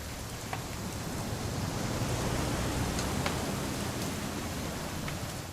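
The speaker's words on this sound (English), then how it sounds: "It's gonna rain the whole weekend, isn't it?" Steady, even rain hiss in the video game What Remains of Edith Finch, with scattered droplet ticks, soft and continuous throughout, no voices.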